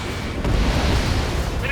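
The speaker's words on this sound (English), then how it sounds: "An explosion inside." Ace Combat 7 video game explosion: a deep, rumbling boom that fills the mix and sustains with a low roar, with brief higher crackles near the end.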